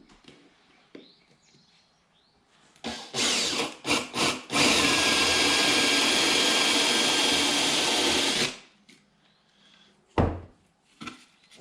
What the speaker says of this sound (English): we're going to go ahead and drill a hole in these and put a candle in it.